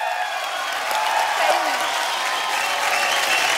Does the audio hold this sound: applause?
yes